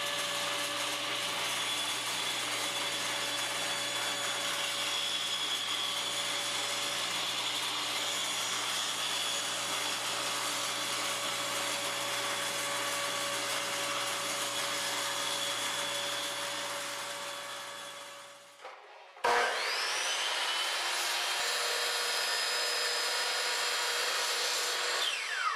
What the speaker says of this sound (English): With the blade just a little higher than half the board, I can do this in 2 passes